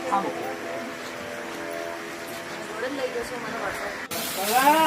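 Artificial rain sprayed over a song shoot makes a steady hiss of falling water under a voice and music, then swells into a brighter, louder spray for the last second.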